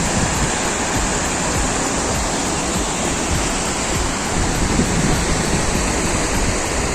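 A river rushes through Kaghan Valley in Pakistan, a loud, constant roar of fast-flowing water close by, steady and unbroken throughout.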